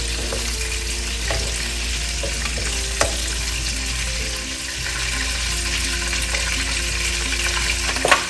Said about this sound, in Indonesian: Udangnya kita aduk ya, jadi nggak boleh overcook juga.